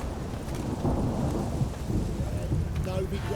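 Rain and rolling thunder in the video game The Witcher 3, a steady downpour under low, booming rumbles with a voice murmuring faintly beneath.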